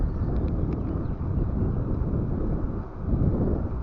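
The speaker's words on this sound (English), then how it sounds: "There's a lot of headwind and a lot of wind" Strong headwind buffets the microphone of a cheap Icefox 4K action camera, a continuous loud, low roaring rumble that never lets up.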